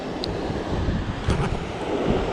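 Wind blows outdoors by the water while a light lure is cast on a BFS fishing reel, a continuous rough rumble with a slight gust midway and no talking.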